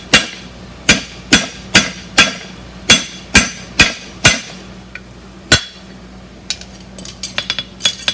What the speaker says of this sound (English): I'm pulling my hammer towards the corner.